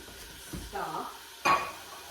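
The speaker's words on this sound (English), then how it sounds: "I just want to do a little bit of deglazing, so I'm just going to put a little bit in there" Stock poured into a hot pot of browned sausage for creamy tortellini soup sets off short bursts of sizzling and bubbling, with brief stirring clinks and a louder hiss near the end.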